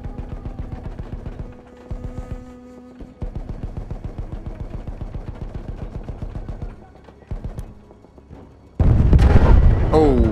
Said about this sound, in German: Jetzt ist das Fahrzeug explodiert.